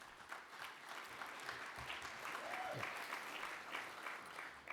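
Sparse, faint audience applause at a presidential candidates forum, a thin scattering of claps in a large room continuing steadily for several seconds without cheering.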